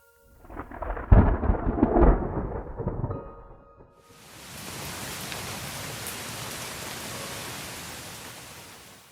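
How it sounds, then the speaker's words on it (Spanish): Rain sound effect in a Spanish-language audiobook: a brief rumble of thunder gives way to a steady, even hiss of falling rain that holds at moderate loudness with no voice over it. "Empezó a llover."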